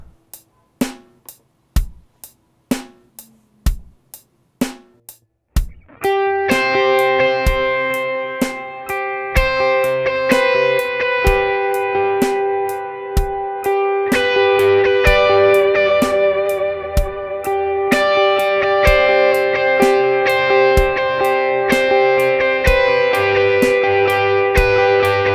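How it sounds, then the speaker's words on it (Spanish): Electric guitar through a Nux MG300 with overdrive, delay and reverb: a few sharp picked notes, then sustained ringing chords and melodic lines with echoing repeats and a long wash of reverb, loud and alone. "un overdrive que nos alce un poquito la señal. Y voy a usar un poco de reverb que nos ayude con este tema"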